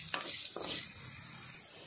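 Masala for Udupi-Mangalore style chicken gassi fries in a pan over a low flame, giving a soft, steady hissing sizzle with a couple of brief stirring scrapes near the start.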